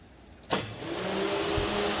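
A 1971 Plymouth Cuda with a 426 Hemi and Edelbrock fuel injection, key switched on: a sharp click, then a steady electric hum or whir of the fuel system priming, close and moderate.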